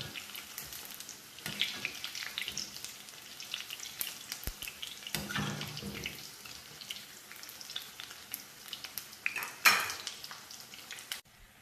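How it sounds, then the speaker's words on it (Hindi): Pakoras frying in hot oil for curry pakora, a steady close sizzle and bubbling with occasional stirring clinks and scrapes of a utensil against the pan, no talking. "पकौड़े यहाँ फ्राई हो रहे हैं, ये देखें।"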